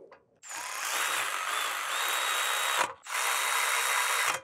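Power impact driver tightening brake bolts on a 2012-2015 VW Passat TDI, two loud whirring bursts with a short pause between them, close up, no talking.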